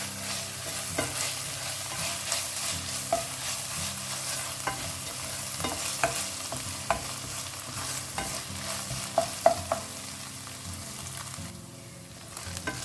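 Onion with ginger garlic paste sautés in a pan, a steady close sizzle broken by frequent scraping stirs and small clicks, fading to a quieter hiss near the end.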